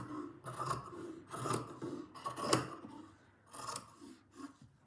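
Scissors cut through the edge of a quilt in several close, crisp snipping bursts, each a rasping slice of fabric separated by short pauses, quiet and with no talking.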